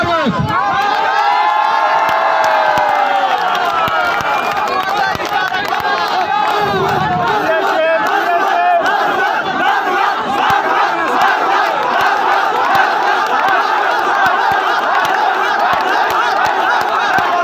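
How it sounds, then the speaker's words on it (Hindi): A large political rally crowd roars and cheers for a speaker in a loud, sustained wave of shouting and whooping voices that swells and carries on without a break. "आप सबकी तालियों की गूंज में जनाब शेर अफजल खान मरवत"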